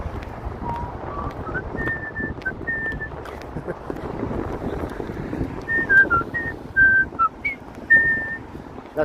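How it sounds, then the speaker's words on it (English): A man whistles the CHiPs theme song in tune on a walk along Lake Shore Boulevard in Etobicoke, Toronto, a bright melody of short and sustained notes over wind buffeting and outdoor background noise. "Fun fact about Ken, he can whistle in tune"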